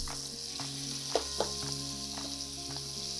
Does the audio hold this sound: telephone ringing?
no